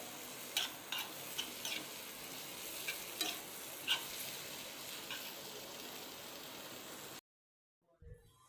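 Okra curry reheating in a pan gives a soft, continuous sizzle with a few light scraping stirs, then cuts off abruptly to near silence.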